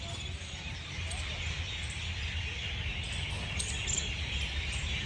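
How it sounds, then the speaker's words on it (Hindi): Steady outdoor insect and bird chorus in Roshanara Bagh, Delhi, dense chirping filling the background at an even level, with occasional brighter calls standing out; no talking. "यहाँ पर साउंड सुनो भाई। चिड़िया है ना,"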